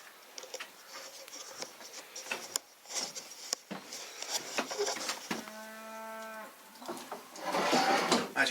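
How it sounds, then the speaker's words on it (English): Cattle moo near a log cabin in Scotland, with a clear drawn-out low moo in the middle standing out against quiet rural surroundings, faint rustles and knocks around it. "listening to the cows talk to each other"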